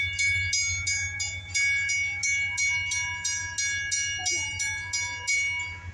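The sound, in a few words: CSX freight train passing a railroad crossing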